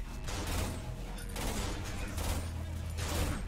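Gunfire in the Cry of Fear horror game comes as several loud, rapid bursts of shots in close succession, filling the whole stretch.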